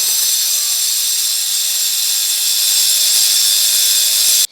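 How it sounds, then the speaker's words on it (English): A diamond cutoff wheel slicing through hardened steel, a loud, steady high-pitched grinding screech held continuously for over four seconds before cutting off abruptly. "this is hardened, so we're going to use a diamond cutoff wheel"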